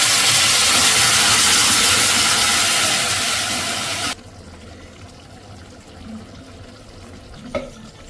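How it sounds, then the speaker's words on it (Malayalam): Loud, steady hissing bubble of a colocasia curry boiling in a pan for about four seconds, then it drops to a quiet simmering background with a faint clink near the end. "അപ്പോൾ നന്നായിട്ട് തിളയ്ക്കുന്നുണ്ട്."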